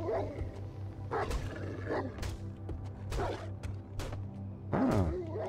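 A dog growls and grunts in the survival video game 7 Days to Die, with several rough bursts spread across a steady low game hum, fairly quiet.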